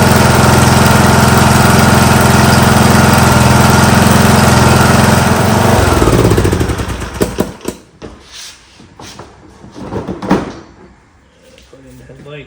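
A 19.5 hp Briggs and Stratton engine runs loud and steady, then shuts down and winds off, followed by scattered clunks and handling noises.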